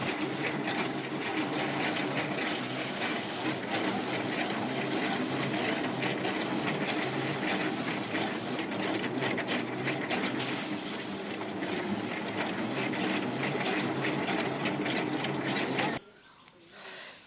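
A paddy threshing machine runs continuously up close, a loud dense mechanical rattle and whir that holds steady for most of the time before cutting off abruptly near the end.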